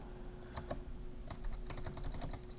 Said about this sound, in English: so my keyboard isn't like directly in front of me, as if I was typing like an office worker